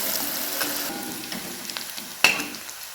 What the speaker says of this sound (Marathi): कांद्याला छान असं भाजून घ्यायचे आपल्याला